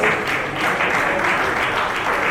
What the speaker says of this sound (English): Big round of applause, ladies and gentlemen, keep it up.